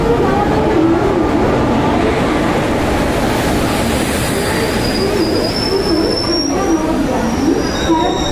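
An Indian passenger train with ICF coaches rumbles along, loud and close, with a continuous rolling roar of wheels on track and occasional thin squeals from the wheels.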